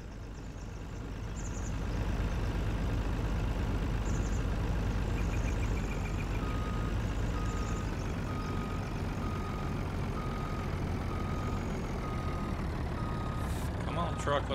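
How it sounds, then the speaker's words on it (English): A truck labors in Farming Simulator 19 while setting up a forest logging landing, its low engine rumble droning steadily and heavily, with faint beeping tones running through it. "This truck don't have enough power."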